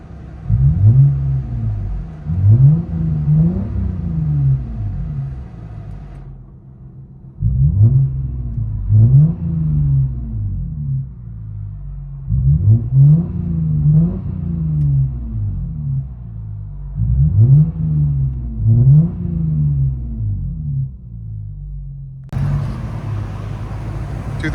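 A 2005 Lexus GS 300 3.0L inline-six with rear muffler delete and Vibrant resonators revs repeatedly in short bursts, deep raspy rumbles climbing and falling with idle gaps between, heard from close by.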